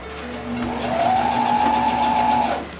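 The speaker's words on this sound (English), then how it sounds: "sew all the way around the mask" A sewing machine top-stitches around a fabric face mask, running in a steady, close, loud whir for about two seconds before stopping.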